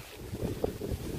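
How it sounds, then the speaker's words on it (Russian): Hurricane-strength wind gusting outdoors in a yard strewn with fallen branches, nuts and leaves, a loud, steady roaring buffet against the microphone with rumbling surges. "У нас ураганище."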